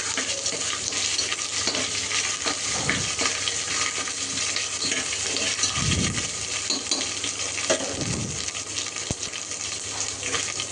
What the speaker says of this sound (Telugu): అల్లం వెల్లుల్లి పేస్ట్ వేసుకొని వేపుకోవాలండి.